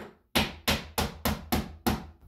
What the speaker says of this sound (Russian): хороший тоненький гвоздь пробивает вот в любом месте